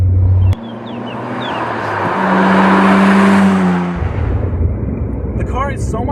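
Nissan Skyline GT-R, right-hand drive, heard from inside as the engine drones steadily and rises in pitch under acceleration, then drops back, with a brief chirp near the end.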